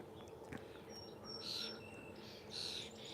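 Birds sing and chirp outdoors on Mackinac Island, with faint distant whistles and a couple of brighter trilling calls over quiet ambient background.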